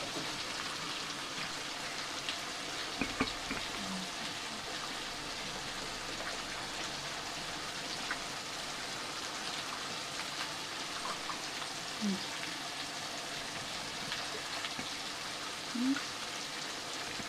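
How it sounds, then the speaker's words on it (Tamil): Tamarind liquid bubbles in a cooking pot with a soft, continuous seething hiss and occasional faint pops, steady and low in level. "தக தக தக நல்லா கொதிக்கிறது உங்களுக்கே தெரியுது"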